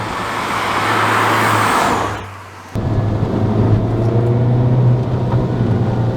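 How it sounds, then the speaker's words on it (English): A 2010 Mini Cooper S (R56) gives a steady, loud engine and road rumble on small roads, dipping briefly midway before returning with a low droning hum. "I don't know if you can hear the engine."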